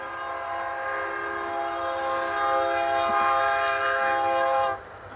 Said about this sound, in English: Right there, train horn.